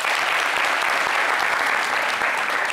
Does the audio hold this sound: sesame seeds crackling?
no